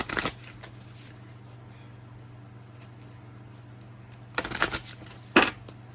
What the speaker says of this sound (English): So I'm going to pull out 3 more cards.